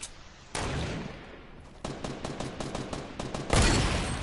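Rapid gunfire in a shooter video game, close and loud, with bursts of automatic shots and a heavier volley at the end, heard alone without speech.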